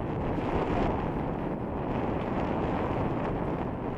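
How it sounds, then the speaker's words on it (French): Wind buffets the microphone aboard a sailboat heading out of the channel from Saint-Denis on Oléron island, a steady, loud broadband roar with faint water wash beneath. "Le vent arrive, on le sent direct."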